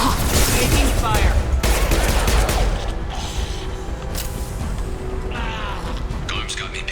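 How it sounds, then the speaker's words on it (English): Rapid gunfire bursts in a Mass Effect-style third-person shooter battle, dense and loud in the opening seconds, then thinning to scattered shots and mechanical clatter with a voice speaking over the fight. "Taking fire."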